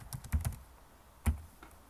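A few soft keystrokes on a computer keyboard as Turkish text is entered for a Canva poster design, two quick clusters of clicks separated by a short pause, quiet and close.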